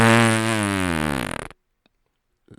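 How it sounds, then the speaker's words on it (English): A cartoon-style fart sound effect from a Family Guy soundboard plays loud and drawn out for about a second and a half, its pitch sagging and sputtering into a rapid flutter before cutting off to near silence. "That, gentlemen, was a fart."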